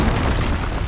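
A loud, dense burst from an Incendio fire spell in Hogwarts Legacy, a full, rumbling blast that fills the moment with no break.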